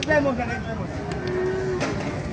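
Water buffalo lowing at a busy cattle and buffalo market, one long drawn-out moo heard fairly close over a constant murmur of crowd chatter.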